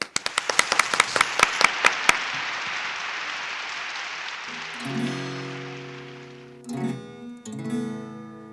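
Audience applause for a singer: a short burst of sharp, loud claps up front that thins out and fades, followed by a sustained musical tone and brief chords near the end.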